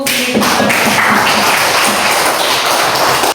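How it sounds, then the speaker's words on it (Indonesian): Students in a classroom clap together after a lesson discussion, loud close-up handclaps with a rough pulsing rhythm and some tapping thuds mixed in. "mari kita tepuk tangan untuk"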